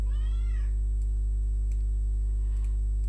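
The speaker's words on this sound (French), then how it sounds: "Il est malheureux, ce petit chat." A small cat gives a single plaintive meow near the start, close and clear, followed by quiet with faint ticking over a steady low electrical hum.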